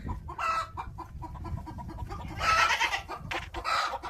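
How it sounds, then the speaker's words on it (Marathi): Free-range village hens on a poultry farm cluck in repeated short bursts behind wire netting, with a louder flurry of clucking and squawks midway and steady farmyard activity throughout, no talk. "नाही तर पूर्ण जाळी आणि आतमध्ये गावरान कोंबड्या आहेत"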